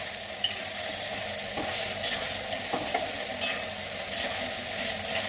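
Raw potato pieces fry in oil over medium flame, a soft continuous sizzle broken by light scraping stirs and occasional clicks of the spoon against the pan.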